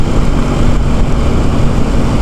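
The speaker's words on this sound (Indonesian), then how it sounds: "Ini mobil knalpot ini ya." A loud, steady car engine rumble through an aftermarket exhaust with a rough, throaty low-end roar, continuous throughout and close by, heard from the road, with no voices.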